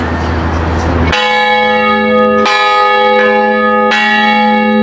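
A large ship's bell at South Street Seaport in New York is struck loudly three times at intervals of about a second and a half, each ring leaving a long, bright, sustained tone that decays slowly.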